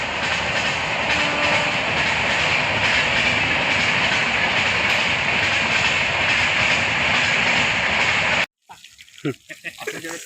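A train rushes past close by, a loud sustained roar for about eight seconds beside a roadside stall where chicken is being fried, then cuts off abruptly to quieter background sounds.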